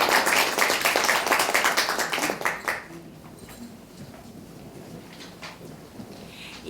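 A forum audience at the 2016 Jeju Forum applauds to welcome a speaker, dense clapping for close to three seconds that then fades into quiet room murmur.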